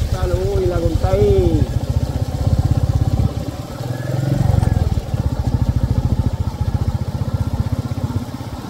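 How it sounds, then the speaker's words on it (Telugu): A motorcycle engine chugs in a rapid, rhythmic beat at close range while riding in the rain, rising and easing as the throttle changes, with a voice talking over the early part. "వర్షంలో బైక్ రైడ్ కష్టాలు ఇలాగ ఉంటాయి."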